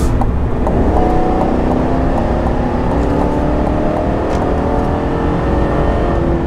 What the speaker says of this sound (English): So I'm gonna give you guys a little bit of acceleration.